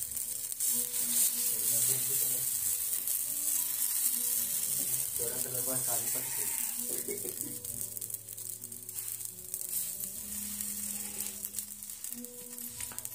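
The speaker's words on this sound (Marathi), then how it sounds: "आता ह्याला व्यवस्थित असं शेकून द्यायचं आणि चारी बाजूनी ह्याला असं तेल सोडून घ्यायचं" Green moong dosa batter sizzles steadily in oil on a hot pan, a close, continuous hiss with faint crackles and occasional utensil scrapes, without pauses.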